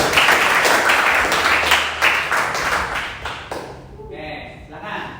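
A classroom audience at a teacher-certification performance session claps for the first presenting group. Steady, dense applause fills the first three and a half seconds, then fades as people start talking.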